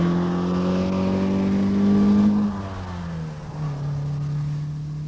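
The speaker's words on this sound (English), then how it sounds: "I'm going to slide this one. Now all four wheels sliding beautifully." A Lotus Elite's engine drones at a steady pitch, then drops sharply as the car brakes hard and slides, with the engine note settling lower and the sound staying close and fairly loud.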